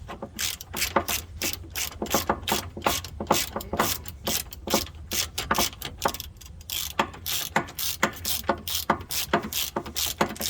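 A nut spun onto a steering bump stop limiter bolt, rapid repeated metallic ratcheting clicks in a steady rhythm, close and fairly loud, with no voices.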